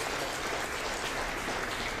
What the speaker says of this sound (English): So let's give Kathy Hahn a big round of applause